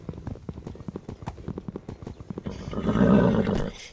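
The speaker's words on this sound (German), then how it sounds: "Hallo, was macht das Pferd in meinem Haus?" A horse in the video game Minecraft gives a loud neigh, preceded by a quick series of clip-clop hoofbeats, close and clear.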